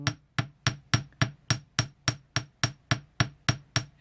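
Light, even blows from a ball peen hammer flatten the end of jewelry wire into a paddle, about thirteen sharp metallic taps in a brisk regular beat, close and soft, with no voices.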